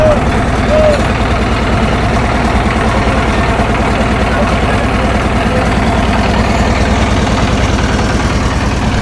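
Launch and steamer engines on the Karnaphuli river throb in a loud, steady, low rumble of idling diesel motors close by, with a voice speaking over them.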